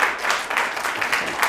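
Studio audience clapping at a taped comedy talk show, a steady dense patter of many hands that stays fairly even and close throughout, with no voices over it.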